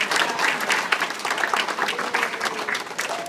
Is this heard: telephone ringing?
no